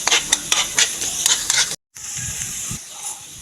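Mushrooms and garlic sauté in a pan. A soft sizzle runs throughout, and scraping stirs come in a quick irregular rhythm before a short break, followed by quieter sizzling.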